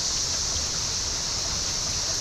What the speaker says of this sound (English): there is a small waterfall